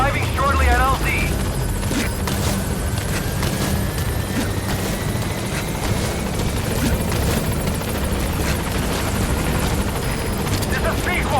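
Pequod support helicopter in Metal Gear Solid V arriving at the landing zone: steady loud rotor thrum and turbine roar fill the whole stretch, with a brief radio-style voice chirp at the start and end.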